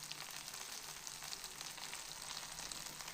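Bay leaf, cloves and fenugreek frying gently in a pan over a low flame make a soft, even hiss that stays steady and faint throughout, with no voices.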